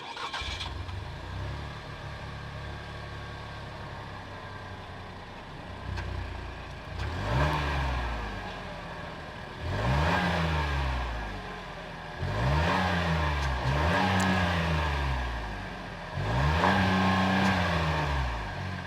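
A 2026 Buick Encore GX Sport Touring's 1.3-liter turbocharged three-cylinder engine starts and settles into idle, then gets revved in four or five sharp blips with pauses between, each rising and falling back, heard close and with no talking.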